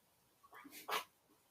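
A dog gives a faint, brief whimper followed by a short, soft bark, heard indoors at low volume.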